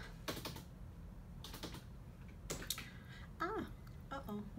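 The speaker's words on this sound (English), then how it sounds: "I pressed something on my keyboard" Keys clicking on a computer keyboard in short bursts of typing, fairly close, with soft voices and chirpy background sounds in between.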